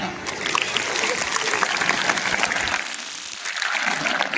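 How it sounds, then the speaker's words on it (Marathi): Lecture audience applauding, a dense burst of clapping that fades briefly before picking up again, close and loud. "जोरात टाळ्या वाजवायच्या."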